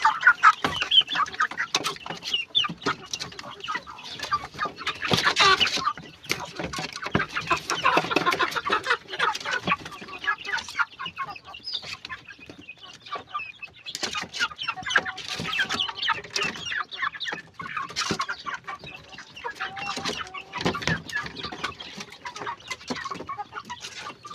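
Chickens cluck and squawk continuously at close range, a busy flock chattering in irregular bursts throughout with no talking.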